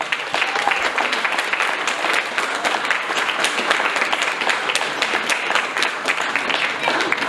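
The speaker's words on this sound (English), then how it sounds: "Let's give them a round of applause." Crowd applause at a 1940s-themed railway weekend on the Kent and East Sussex Railway, following a Churchill-style speech: dense, steady clapping from many hands that holds for about seven seconds without a break.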